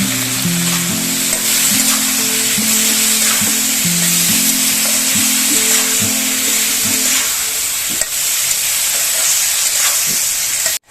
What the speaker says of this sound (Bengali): এবার মশলা দিয়ে ভালো করে কষবো।